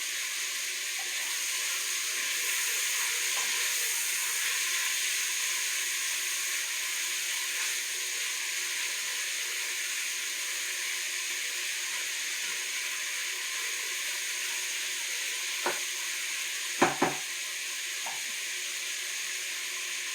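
Meat for peanut spinach fries over high heat in a pan, giving a steady, soft, hissing sizzle throughout, with a couple of faint clinks near the end and no talking.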